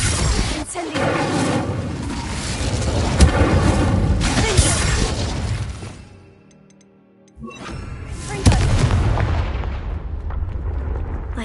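An Incendio fire spell cast in Hogwarts Legacy: a loud, roaring whoosh of flame with booming crackle that cuts out to near silence for about a second, then bursts back in and fades.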